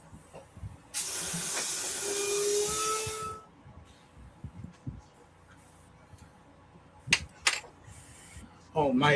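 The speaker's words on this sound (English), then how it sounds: "Oh, my air compressor is at 20 psi." An air compressor at 20 psi feeds an airbrush painting a 3D-printed bust, giving a close, loud steady hiss of airflow for about two and a half seconds, then quiet room noise with a few faint clicks and taps.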